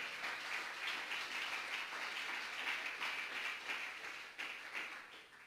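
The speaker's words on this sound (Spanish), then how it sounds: "¿Cuánto le dan un aplauso a él fuerte?" A church congregation gives a loud, sustained round of applause during a sermon, dense clapping holding steady for several seconds and easing slightly near the end, with no talk over it.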